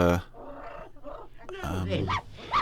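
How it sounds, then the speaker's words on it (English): A dog barks and yips in short bursts alongside a voice, the barking close and fairly loud. "So, Pom-Pom is barking at"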